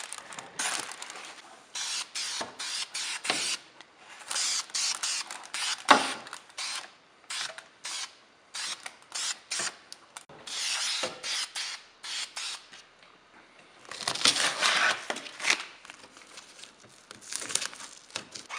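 Aerosol can of flat black high-temperature paint sprayed onto a C8 Corvette exhaust, short hissing bursts repeated in uneven rhythm, close and fairly loud, alone without speech.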